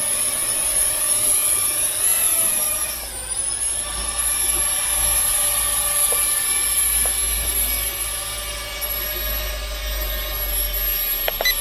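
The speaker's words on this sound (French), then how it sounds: "on arme les moteurs. Et puis, on peut décoller" Steady high-pitched whine of a LOOLINN X27 toy drone's small electric motors spinning up for takeoff and holding, loud and close, with shifting pitch and no voices.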